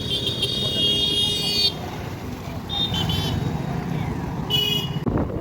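Buses and other road traffic run along a road beside a bridge over a canal, with steady engine rumble and road noise throughout, loud and close, and bursts of horn honking near the start and again near the end.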